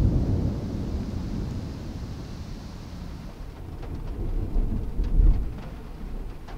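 A thunderstorm with heavy rain, heard from near a UAZ vehicle outdoors on a mountain: a dense, steady roar of downpour with low rumbling thunder swelling beneath it, loud and continuous.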